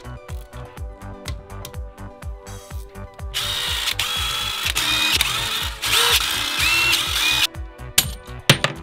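A power tool works the numbered bolts off a 2021 KX250 engine, starting with a rapid pulsing rattle, then a louder sustained whirring with brief pauses, close up and alone.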